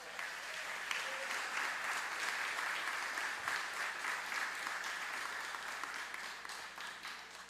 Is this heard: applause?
yes